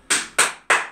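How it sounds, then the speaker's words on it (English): Three crisp hand claps at an even pace in a children's dance class, each sharp and close with a short decaying tail, alone without talk. "3 little claps on the end"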